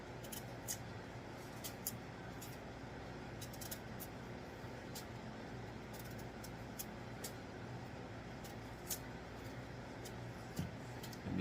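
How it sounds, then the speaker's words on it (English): Skin being peeled off food with a knife while preparing Antiguan ducana: quiet, repeated short scraping strokes in an irregular rhythm over a faint steady background hum, no talk. "So let's peel the skin."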